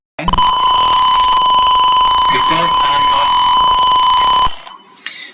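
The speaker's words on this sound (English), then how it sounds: "The buzzer went on." A catering robot's buzzer sounds loud and steady for about four seconds, a sustained electronic tone, then cuts off, followed by a brief faint blip.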